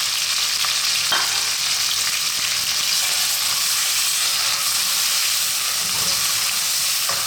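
Onions, mustard seeds, chili, rampa, garlic, ginger, cinnamon and curry leaves fry in a pan for a Sri Lankan green bean coconut curry, giving a steady, lively sizzle with bright hiss throughout and a few soft stirring clicks.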